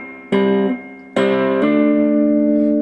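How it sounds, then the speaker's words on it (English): Electric guitar plays a song intro with thumb and finger picking: two plucked chordal attacks, the second ringing out and sustaining to the end, close and alone. "So thumb and finger sounds like this."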